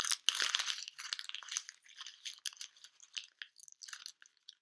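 Scribbled brown paper is crumpled by hand close up, giving a dense burst of crinkling and crunching that then continues in smaller, sparser crackles.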